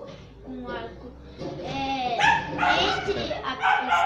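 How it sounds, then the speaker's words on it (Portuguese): A pet dog barks and yelps repeatedly in a home, mid-distance and fairly loud, with voices speaking over and between the barks. "eu tive que pausar porque meu cachorro começou a latir"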